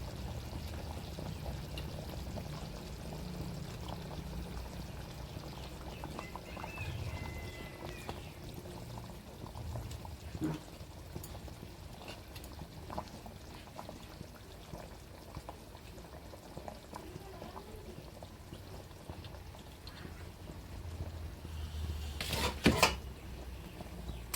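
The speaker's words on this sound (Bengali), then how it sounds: "এখন আমি ভেজে রাখা মাছগুলো দিয়ে দেবো" Fried fish added to a pot of bubbling fish curry, a steady soft simmering and liquid bubbling throughout, with a couple of light clinks and a brief louder splash near the end.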